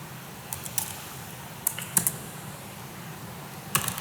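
A computer keyboard being used for shortcut key presses while working on CSS, a few quiet separate clicks and small clusters of taps scattered over a few seconds, close but faint against a low room hum.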